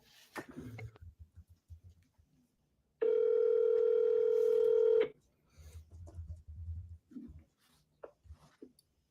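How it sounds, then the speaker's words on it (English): A telephone dial tone holds steady for about two seconds in an office call setting, framed by quick clicks of keypad dialing and light handling sounds before and after. "I can dial this next one if you already did your second dial"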